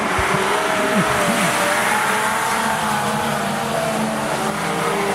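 Fender Benders race cars circle Rockhampton Speedway, a dense, continuous roar of engines revving together with passing whines, loud and steady throughout, no voices audible.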